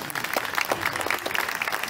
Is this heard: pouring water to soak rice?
no